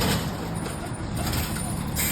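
A city bus pulls up at a stop, its engine rumbling loudly close by with a sharp hiss of air brakes at the start and end.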